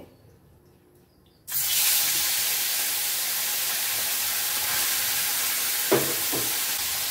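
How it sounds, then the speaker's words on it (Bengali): After a moment of near quiet, a loud, continuous sizzle of small morola fish (mola carplet) frying in hot oil bursts up and keeps going, with a brief clatter near the end. "কিছুটা মাছ ভেজে তুলে রাখবো ডাল দিয়ে খাওয়ার জন্য"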